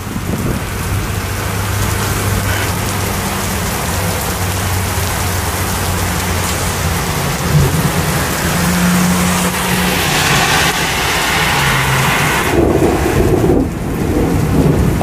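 Heavy rain roars steadily during a severe evening thunderstorm in Westbury, with deep thunder rumbling underneath and swelling louder near the end, a dense continuous downpour close by with no voices.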